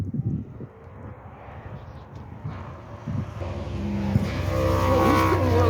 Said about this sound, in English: he's doing a lot of backfiring